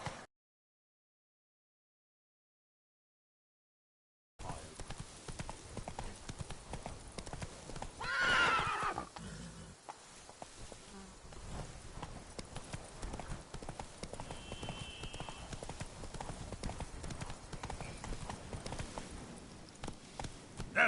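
Roach, a horse in a video game, clip-clops steadily at a trot with a loud whinny partway through, the hoofbeats continuing close and prominent after a brief silence at the start.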